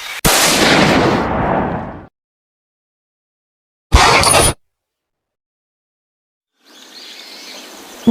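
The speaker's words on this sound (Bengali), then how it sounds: "দুষ্টু শিকারী ভয়ঙ্কর করে তাকিয়ে তার বড় রাইফেলটি দিয়ে একটি গুলি মেরে দিল" A rifle shot in a Free Fire-style animated cartoon lands as a loud, close burst that rumbles on for about two seconds. A second short sharp blast follows after silence, then faint ambient forest noise.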